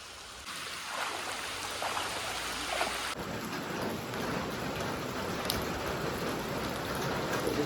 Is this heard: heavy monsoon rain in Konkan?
yes